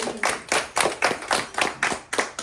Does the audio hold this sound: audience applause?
yes